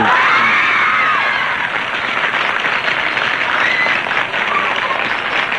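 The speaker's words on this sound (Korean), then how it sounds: "효자이신 조용필 씨께 다시 한번 박수" An audience in a broadcast studio claps warmly and steadily throughout, a loud continuous wash of applause with some faint cheering mixed in.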